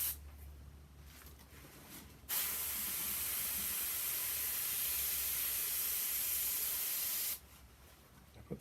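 Airbrush blowing paint onto a greenhouse graphic, a steady loud hiss that starts abruptly, holds for about five seconds without a break, then cuts off into quiet room tone.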